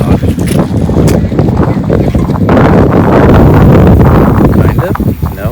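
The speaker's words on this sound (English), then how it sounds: "The wind is coming." Steady wind rushing across the microphone on a night walk through town, a loud continuous blustery roar with gusts rising and falling throughout.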